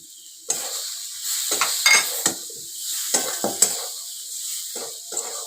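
Spiced potato curry sautéing in a pan after coriander powder goes in, a soft sizzle under repeated scraping strokes of a spatula at an irregular pace, with no one talking.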